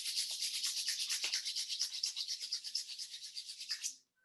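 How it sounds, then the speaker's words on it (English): Palms rubbed briskly together in a classroom activity, a soft rhythmic swishing of skin on skin repeating steadily for about four seconds, close and alone before stopping. "Put your palms together like this and rub them."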